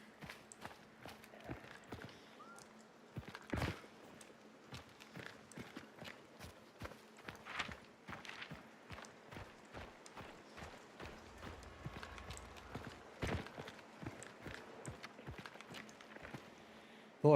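Horse hooves galloping in a video game, a rapid, uneven run of clip-clop hits moving across the scene, fairly quiet, with a brief low rumble partway through.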